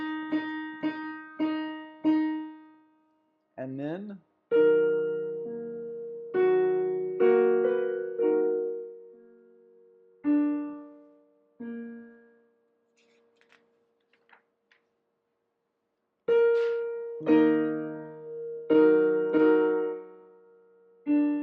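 Three-voice choral excerpt from Z. Randall Stroope's Judaskuss (Kiss of Judas), sung in short phrased bursts with pauses between them, sustained tones in the middle section, and near-silence before the final phrases.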